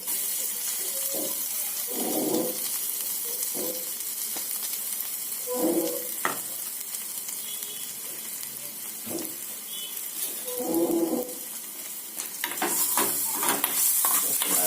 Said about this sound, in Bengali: এই যে 1 চামচ ঘিয়েতে আমি এই রসুন আর আদাটাকে ভেজে নিচ্ছি